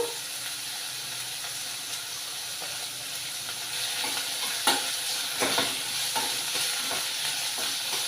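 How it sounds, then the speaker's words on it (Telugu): Onions and curry leaves fry in a pan for a coconut and chana dal curry, giving a steady close sizzle with occasional stirring scrapes that grows louder and busier partway through. "ఈ ఉల్లిపాయలు అనేవి బ్రౌన్ కలర్ వచ్చినంత వరకు వేయించుకోవాలి"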